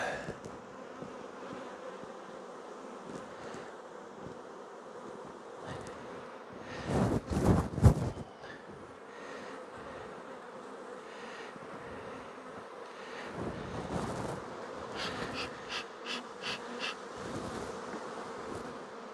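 Honey bees at an apiary during a hive inspection, a faint continuous buzzing drone with individual bees zipping close past in brief louder bursts and occasional handling noises.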